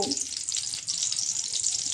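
Chopped onion frying in oil in a pan, a steady broad sizzle with crackle running throughout, close and fairly loud with no voices.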